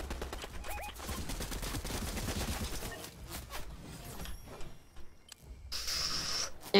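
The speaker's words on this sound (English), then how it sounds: "I think there's somebody shooting at us from behind." Rapid automatic gunfire in a Fortnite match, dense continuous bursts coming from behind, loud and sustained, easing off briefly before a spray of shots and hiss returns near the end.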